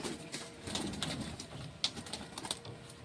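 At a fancy pigeon show, a female pigeon gives soft, low cooing. The sound is faint and muffled, with a few brief rustles and light background noise around it.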